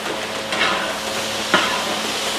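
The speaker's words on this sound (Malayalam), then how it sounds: "ഒന്നര കിലോ തക്കാളിയും കൂടി ഇട്ട് കൊടുത്ത് നല്ലപോലെ ഇളക്കി കൊടുക്കാം" One and a half kilos of chopped tomatoes frying with onions in a big pot of chicken curry for seventy people, a steady dense sizzle with an occasional stirring scrape, close.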